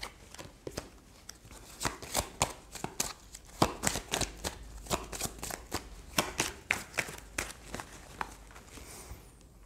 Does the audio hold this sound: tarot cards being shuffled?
yes